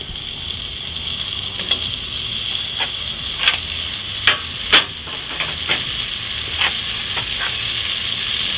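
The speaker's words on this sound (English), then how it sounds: "Then we're going to get our peppers and onions in there and get them started softening up" Peppers and onions sizzle in butter and avocado oil in a Dutch oven, a steady close frying hiss with scattered sharper pops and crackles throughout, no voices.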